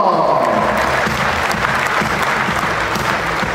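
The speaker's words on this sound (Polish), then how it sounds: "Wielkie brawa!" Loud crowd applause at a fight gala, a dense continuous roar of clapping that holds steady throughout.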